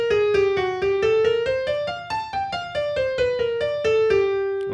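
A piano solo line plays alone: a quick, even run of single notes climbing and then falling back, each bright and close with a short decay.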